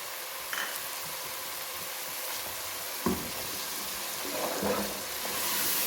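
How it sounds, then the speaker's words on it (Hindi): Whole spices with coarsely crushed coriander fry in a pan for potato and cauliflower curry, giving a steady, moderate sizzle broken by a few light knocks from stirring. "अब अच्छे तरीके से हम मसाले को भून लेंगे।"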